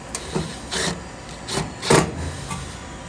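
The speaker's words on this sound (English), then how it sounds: "So I'm just taking a metal tapping screw and screwing that bracket right in." A metal tapping screw driven into a solenoid bracket for a shutoff nozzle on a Haitian Absolute ZE 1900 III injection molding machine, several short whirring bursts of a power driver up close, no speech.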